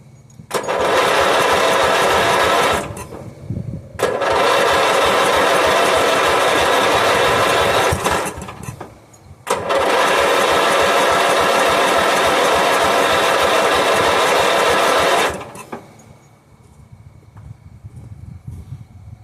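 A 1977 Bolens G10 lawn tractor engine fitted with a new muffler runs in three steady bursts of several seconds each, loud and close, with brief pauses between them and a quieter idle or shutdown at the end.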